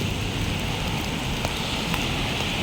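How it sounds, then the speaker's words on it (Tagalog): Steady rain falling outdoors, a continuous even hiss of drops on surfaces while people walk through it, with a couple of faint ticks and no talking. "Because we're walking in the rain."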